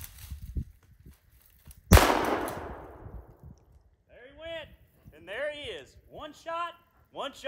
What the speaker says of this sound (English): One shot, Shaun.